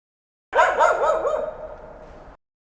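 A dog barks in a quick run of several yips and barks, close and fairly loud, fading into a softer whimpering tail, with no talk over it.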